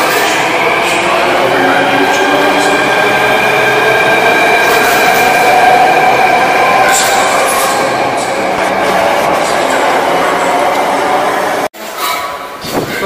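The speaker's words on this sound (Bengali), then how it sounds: "এই যে এখন দুটো মেট্রো দেখো, এটা এটা কিন্তু চলে যাচ্ছে কাশ্মীরি গেট" Delhi metro trains pass with a loud, continuous rolling rumble and hiss that holds steady for several seconds before cutting off abruptly.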